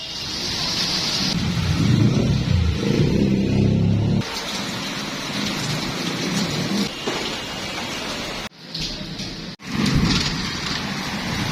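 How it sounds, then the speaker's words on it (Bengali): Heavy rain pours down steadily in a thunderstorm, a dense close roar broken by brief lulls, with low rumbling in the first few seconds, outdoors during a monsoon downpour. "বৃষ্টি হচ্ছে প্রচন্ড"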